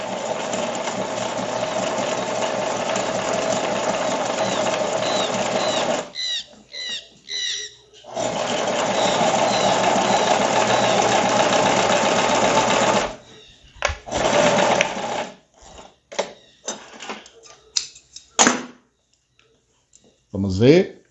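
A domestic sewing machine stitching knit fabric whirs in two long, loud runs and then a series of short stop-start bursts, with a person talking in the quieter gaps.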